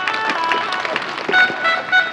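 Crowd applause during a Ganesh Jayanti felicitation ceremony at a Ganesh temple in Nevasa Phata, a steady wash of many clapping hands, close and fairly loud, continuing throughout.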